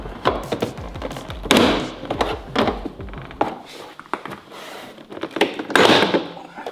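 Plastic retaining tabs on an Audi TT door card pop loose in a quick series of sharp clicks and thunks, several close, loud bursts spaced over a few seconds.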